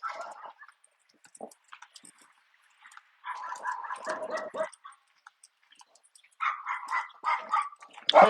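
A dog barking outdoors on a walk, short bursts of several barks and yips in clusters with quiet gaps, fairly near, with brief human voice sounds between.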